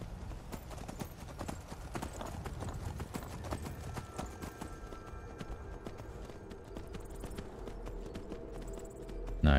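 Horse hooves clip-clop in the Skyrim video game, a steady rhythmic run of hoofbeats at a walking pace that continues throughout, fairly close, with no talk over them.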